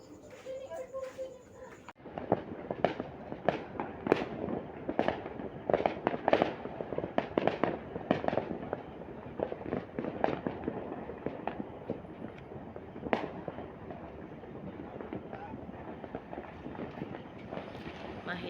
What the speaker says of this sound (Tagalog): Mahina ang paputok, hindi gaya ng dati na talagang ano.